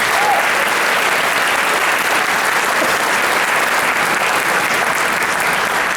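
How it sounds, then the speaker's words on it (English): Steady, full applause from a concert audience at a high school orchestra and band spring concert, dense and continuous for several seconds with no talking over it. "So give them all one round of applause."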